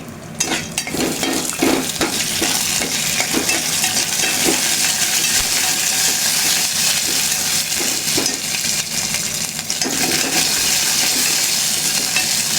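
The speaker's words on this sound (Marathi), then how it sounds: "हे ड्रायफ्रूट मी बारीक करून घेतले हे चांगलं मी परतून घेते" Finely chopped dry fruits sautéing in a pan for coconut rice, with a dense, loud sizzle throughout and repeated scraping and clinking of a spoon against the pan.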